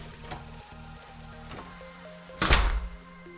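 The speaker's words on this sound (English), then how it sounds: "Close the door and manually lock the deadbolt." A house door swings shut with a solid thunk near the end, a deadbolt being turned by hand as a smart lock is set up, close and clear over a low hum.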